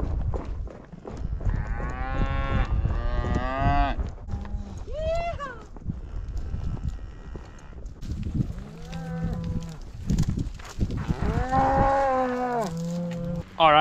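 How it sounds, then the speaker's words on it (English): Cattle moo repeatedly as a herd is driven down off a mountain, several loud drawn-out calls overlapping near and farther off, with a steady background rumble of movement. "we've gathered all the cows off the top"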